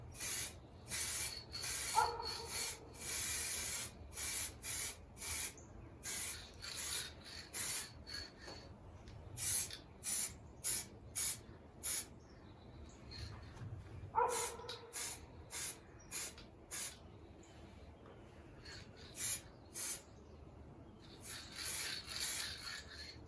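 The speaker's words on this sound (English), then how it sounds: "I'm gonna spray it from the bottom of the car and kind of give it a little dusting" Repeated short bursts of spray paint hiss dusting a model car from below, each a quick puff followed by a pause, steady and close, with no talking.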